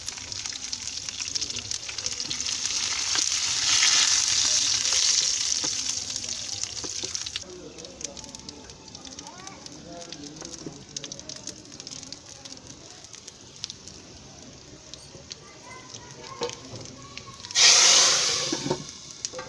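Cumin seeds dropped into hot oil for a moong masoor daal tarka sizzle steadily and close by, with a sharp hiss near the start and another loud burst toward the end.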